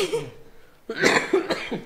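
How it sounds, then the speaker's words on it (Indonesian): A burst of several harsh coughs close by after a quiet pause, uneven and rapid in rhythm. "Batuk banyak bukan batuk dikit."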